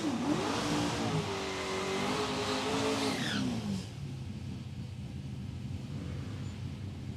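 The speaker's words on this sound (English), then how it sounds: "Now Rochelle will want another 8-second pass out of the Volkswagen Golf" A Volkswagen Golf drag car makes a quarter-mile pass at Palmyra Raceway, its engine revs climbing and shifting before the sound fades quickly into the distance, leaving quiet background noise.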